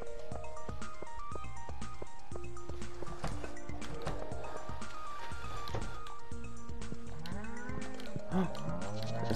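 Farm animals bleat and call repeatedly in a goat-farming video game, set against a steady bed of layered melodic background music.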